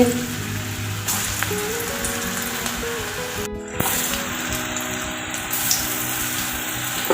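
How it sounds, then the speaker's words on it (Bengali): Kofta frying in hot oil, a dense continuous crackle and hiss with clinks of a utensil against the pan, steady and close, with no talking. "কোপ্তা ফ্রাই তেল গরম হয়ে গেছে"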